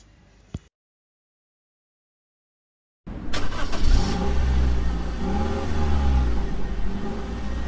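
A Toyota Yaris engine starts after a brief pause and then runs loud and close, with steady revving that holds to the end.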